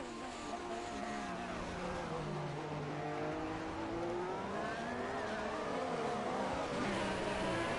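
A Haas F1 race car with a Ferrari engine in a Formula 1 racing video game at Hockenheim, its engine whining and sweeping up and down in pitch as it accelerates and shifts, steady and moderately faint.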